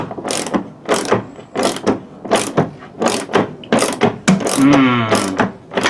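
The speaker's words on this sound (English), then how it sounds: "Just get a ratchet on that." A hand ratchet works a seat belt bolt on a 1994 Nissan Silvia, making about seven sharp rhythmic clicking bursts close up, evenly spaced with a final longer ratcheting sweep.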